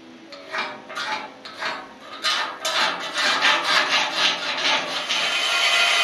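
A hand saw cuts a piece of wood to dimension, with rhythmic rasping strokes that start spaced and uneven, then speed up into a quick, steady back-and-forth close by.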